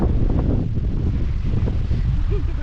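Wind at a hilltop fort in the monsoon season, a strong steady roar buffeting the microphone close up, with low rumbling gusts throughout.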